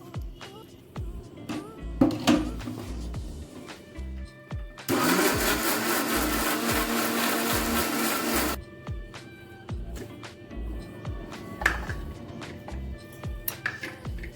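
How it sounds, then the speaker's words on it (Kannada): A mixer grinder whirs loudly for a few seconds of steady high-pitched blending of tomatoes with water, preceded and followed by quieter kitchen clatter and knocks. "ಇದಕ್ಕೆ ಸ್ವಲ್ಪ ನೀರು ಹಾಕ್ಕೊಂಡು ಮಿಕ್ಸಿ ಮಾಡ್ಕೊಳ್ತೀನಿ"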